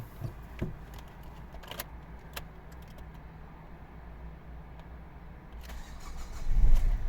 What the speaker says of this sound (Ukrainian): Без проблем завелась машинка.